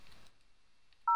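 A cell phone number is dialed in the video game Thimbleweed Park: after near silence, a single loud, clean touch-tone beep sounds at the very end.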